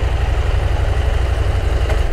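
Close, continuous idle of a motorcycle engine while parked on a street in Tequila, Jalisco: a low, throbbing rumble with rapid regular pulses and no voices.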